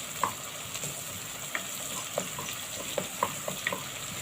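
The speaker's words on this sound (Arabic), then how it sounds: "اول ما ريحه الجنزبيل والثوم تطلع نبتدي نحط اللحمه" Seasoned meat sizzles in a pan with ginger and garlic, a steady close frying hiss broken by scattered sharp pops and the occasional stir, with no talk.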